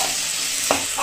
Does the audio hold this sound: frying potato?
yes